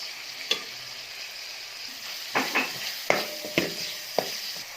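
Vegetables stir-fried and mixed in a pan for fried rice, a quiet continuous sizzle broken by several soft scraping and tossing knocks from stirring.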